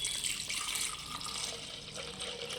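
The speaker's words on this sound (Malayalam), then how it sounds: "ഒരു 1/2 ലിറ്റർ പാൽ നമ്മൾ ജഗ്ഗിലേക്ക് ഒഴിക്കുകയാണ്." Half a liter of cow's milk pours steadily into a jug for a pomegranate ice cream shake, a continuous close liquid rush lasting the whole moment.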